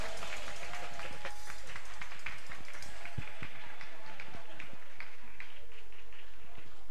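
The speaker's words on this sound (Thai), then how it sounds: "ขอเสียงปรบมือดังๆเลยนะครับ" Audience at a Nexus Bangkok anniversary event clapping after a seniors' dance show, a dense continuous patter of many hands that stays steady throughout, with a presenter's voice over it.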